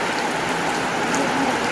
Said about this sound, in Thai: ฝนตกตอนเช้าหนาว